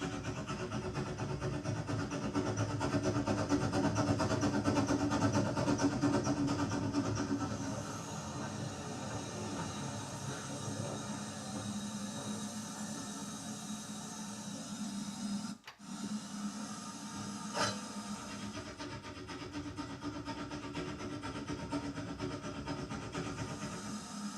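A low, steady mechanical rumble of a running train continues throughout. It is louder at first, then settles into a quieter drone with a brief dropout.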